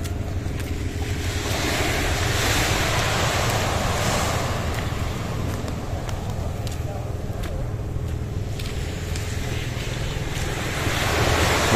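Sea surf rolls steadily onto a beach in Ilocos Norte, a continuous broadband wash of breaking waves with wind buffeting the microphone, loud and unbroken throughout.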